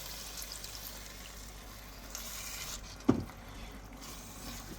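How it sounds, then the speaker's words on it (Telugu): Half a cup of water is poured lightly into a pan of village-style drumstick and egg curry with cooked tomato, a short, quiet splash over low background noise. "లైట్గా హాఫ్ కప్ వాటర్ వేసుకుని"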